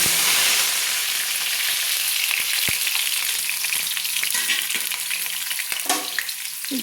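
Large-cut, washed potato pieces fry in oil in a wok, opening with a loud burst of sizzle that settles into steady bubbling crackle with occasional scraping stirs, no voices.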